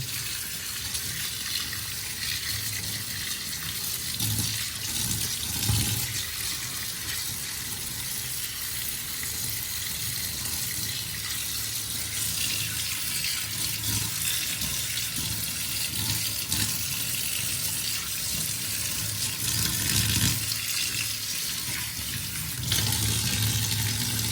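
Water runs continuously from a tap while crabs are washed, a steady rushing hiss with occasional splashes and knocks of handling, close and even in level.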